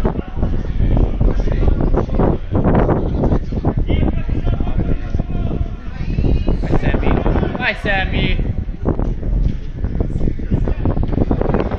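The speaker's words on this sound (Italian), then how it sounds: "il vento, che è una cosa impressionante" Strong wind buffets the microphone in loud, gusting rushes at a seaside football pitch during a match between Baia Alassio and Andora, with people talking throughout.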